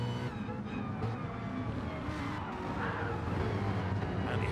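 GT3 race cars, a Lamborghini and a Mustang, racing in a video game at Goodwood, with continuous engine drone and revving pitch shifts as the cars pass, steady and fairly loud.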